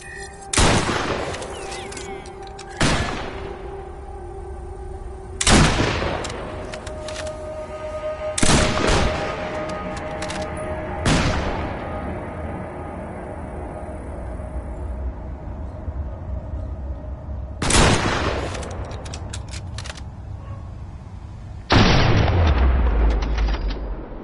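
Gunfire from shooting zombies in the VR game Killing Floor, sharp loud single shots spaced a few seconds apart over a low droning background, with a heavier boom near the end.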